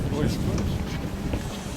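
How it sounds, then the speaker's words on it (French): Wind blows across a lake in Queenstown, New Zealand, as a steady close rush of breezy noise buffeting the microphone. "Il y a un peu de vent quand même."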